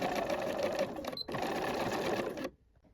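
Sewing machine stitching a seam 1 cm from the edge of a Fibre Mood Jill dress: a steady close whirring run with a brief pause partway, then it stops abruptly, leaving quiet.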